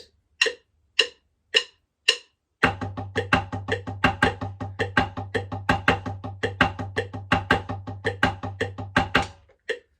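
After four sparse count-in clicks, a snare drum plays a rapid close-up pattern with accents falling once per phrase, the crisp strokes riding over a steady low drone until it stops abruptly. No voices are present.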